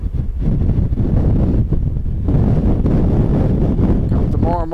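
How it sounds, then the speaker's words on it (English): Strong, gusty wind roars across the microphone of a rider on a Gold Wing motorcycle in winds of about 50 mph. The buffeting is loud and near and rises and falls with each gust, with a brief voice near the end. "Gotta be leaning into this wind."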